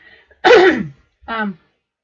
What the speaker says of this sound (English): Excuse me, I need to clear my throat.